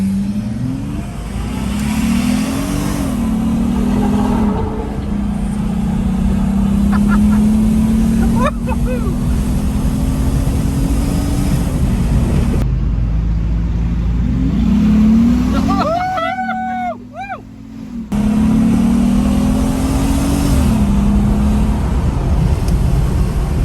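A supercharged Jeep Gladiator Mojave engine with a RIPP supercharger drones loudly and continuously, its pitch swelling and climbing in several revs, with a brief dip and whining tones partway through.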